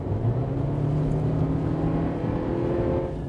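A Honda CR-V engine pulls hard under acceleration, a steady, smooth drone with rising tones that stays loud and even throughout, with no voices.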